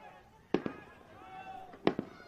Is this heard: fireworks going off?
yes